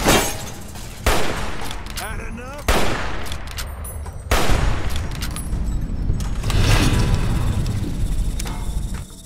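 Gunfire in Fallout New Vegas, several loud sharp shots and bursts cracking out at irregular intervals over a busy game soundscape, with some talk mixed in.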